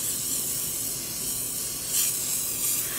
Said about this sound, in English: So right now, I'm sort of just spraying all over because it's not that pigmented.